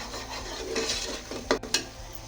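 Ginger and garlic roast with spices in a pan, giving a soft continuous frying hiss and a scraping stir, with two or three brief sharper scrapes near the end and no talking.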